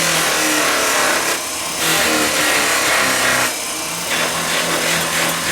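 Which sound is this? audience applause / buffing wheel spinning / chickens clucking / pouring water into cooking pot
buffing wheel spinning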